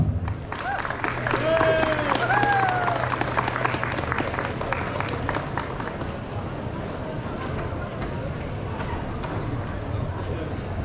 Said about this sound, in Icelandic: Gefðu gott klapp.